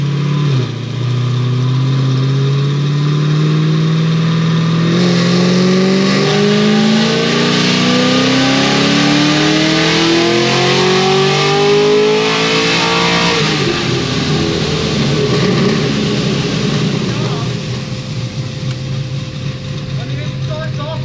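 A Procharger-supercharged car engine on a dyno pulls hard, its pitch climbing steadily through the revs for many seconds before the throttle lifts and the engine winds down, loud and close throughout.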